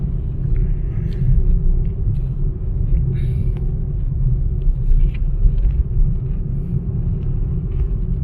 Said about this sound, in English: I could see that the big truck on my back is getting near me.